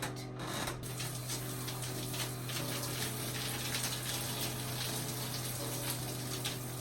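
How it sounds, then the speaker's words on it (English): Running water rinsing shampoo out of hair, a steady soft gushing spray over a constant low hum, faint and continuous without talk. "We're gonna rinse"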